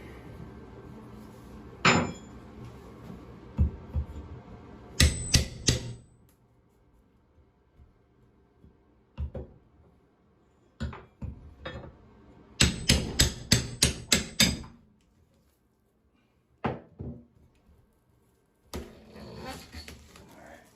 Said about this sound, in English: I'm going to try to put a Wonder Bar in there and see if I can hammer that loose